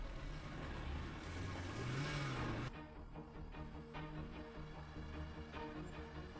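A car pulls in with its engine rising to a revving roar at a road location, then the sound cuts to a quieter idling hum with steady low rumble.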